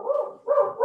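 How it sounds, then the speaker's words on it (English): A dog barks twice in quick succession, loud and fairly close, each bark a drawn-out, whining yelp. "You can hear the dog."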